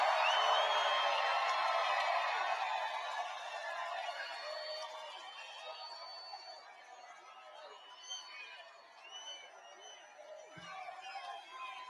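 A large campaign rally crowd cheering and clamouring, loudest at the start and slowly thinning into scattered whoops and chatter, heard from some distance.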